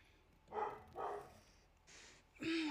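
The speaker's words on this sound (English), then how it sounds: "A dog is barking, man." A dog barks faintly in the distance, a few separate barks spaced about half a second apart, then a brief higher yelp near the end against a quiet background.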